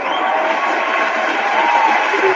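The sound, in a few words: audience applause and cheering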